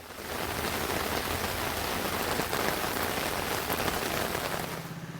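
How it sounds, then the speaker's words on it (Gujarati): Heavy, dense rain with strong wind in Perambalur, Tamil Nadu, pours continuously with a roaring, wind-driven wash, steady and loud throughout, fading slightly at the very end. "તમિલનાડુના પેરમ્બલૂરમાં પણ ભારે પવન સાથે વરસાદ નોંધાયો"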